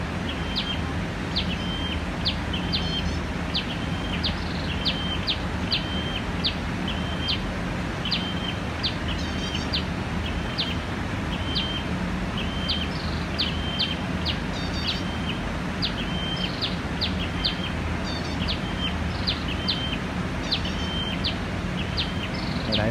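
Flowerpeckers at a bird trap give short, high, repeated chirps in a steady series over a constant broadband outdoor hiss, moderately close and without talk.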